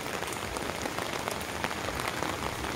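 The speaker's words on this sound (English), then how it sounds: "The rain cannot stop me, my walking exercise." Steady rain patters on an umbrella during a walk through a residential subdivision in Davao City, a dense continuous hiss of drops close overhead with no talking.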